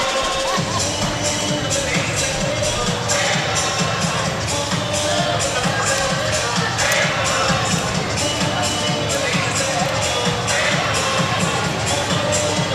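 Crowd noise in a high school gym during a Wildcats basketball game in Sulphur Springs, Texas, a steady dense roar of voices and cheering with scattered claps and thumps throughout, with no clear peaks.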